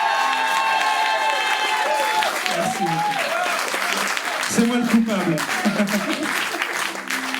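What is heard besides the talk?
audience applause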